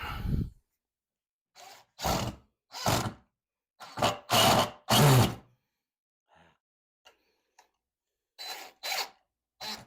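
A power drill drives a couple of screws in a series of short whirring bursts of about a second each, separated by pauses, with a few faint clicks between them.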